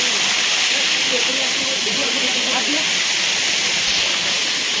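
Waterfall at Chakratirtha in Keonjhar, Odisha, a steady, loud broadband rush of falling water filling the whole clip, with faint voices talking beneath it.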